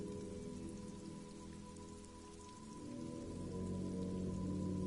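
Steady rain in Disco Elysium, a dense, even hiss of drops on surfaces with a low ambient drone beneath, growing slightly heavier toward the end, no voices.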